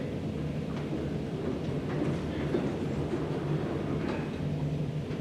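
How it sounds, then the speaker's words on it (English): Train rolling past with a steady low rumble and continuous broadband wheel noise, fairly loud and even throughout, with faint rhythmic clicks from the rails. "That train is making smoke."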